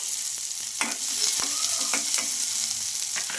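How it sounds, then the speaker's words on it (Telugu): Garlic cloves and chopped ginger fry in a pan with softened onions and green chillies, a continuous loud sizzle broken by repeated stirring scrapes and clacks of a spoon, with no voice over it. "ఉల్లిపాయలు పచ్చిమిర్చి మగ్గిన తర్వాత ఇందులోకి వెల్లుల్లి రిబ్బలు అయితే ఒక ఆరు అయితే వేసుకోవాలండి"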